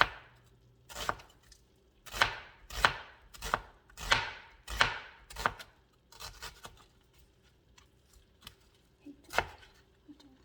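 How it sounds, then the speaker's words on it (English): A knife slices onions on a cutting board for beef stroganoff, giving a run of crisp, close thuds in a quick, slightly uneven rhythm, then a few scattered softer taps and one last sharp cut. "I'm not gonna dice them. I'm just gonna slice them."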